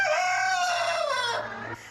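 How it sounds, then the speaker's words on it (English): A rooster on a farm lets out a single loud, close crow that rises and then falls away over a steady low hum, with no voices. "We have chickens."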